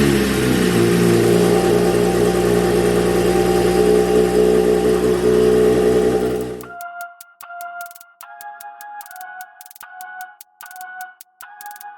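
A car with a BMW B58 engine revs loudly and steadily for several seconds, then cuts out and gives way to quieter, intermittent tonal beeps or chimes.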